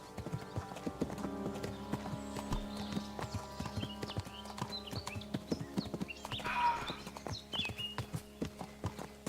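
A horse ridden in Kingdom Come: Deliverance II clip-clops along in an even, steady rhythm of hoofbeats, moderately close and fairly quiet, with a brief whinny partway through.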